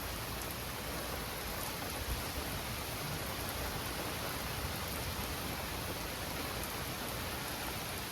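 Rain falls hard and steadily in a severe thunderstorm with intense lightning and gusty winds, an unbroken, full wash of downpour close by with no talking.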